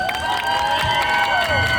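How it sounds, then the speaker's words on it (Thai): An audience at a Christmas tree lighting event applauds and cheers steadily. Dense, close clapping runs under a constant crowd roar with some shouts, and background music plays. "ขอเสียงปรบมืออีกสักครั้งได้ไหมครับ"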